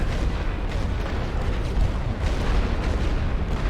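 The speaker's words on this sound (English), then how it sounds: "let's drop some artillery fire on this position" Dense, continuous rumble of artillery shells bursting in The Great War: Western Front, heavy booms blending into one loud, low battlefield roar with no talking.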